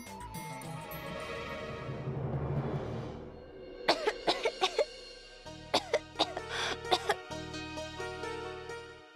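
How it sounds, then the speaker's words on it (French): A young man coughs hard in a French-dubbed Indian drama serial, two clusters of sharp, close coughing bursts over a steady musical background. "Tu tousses encore beaucoup."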